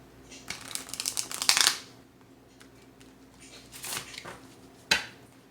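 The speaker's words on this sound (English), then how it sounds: "I'm just going to give a quick shuffle" A deck of cards gets a quick shuffle, heard as two short riffling bursts and a final snap, close and fairly soft.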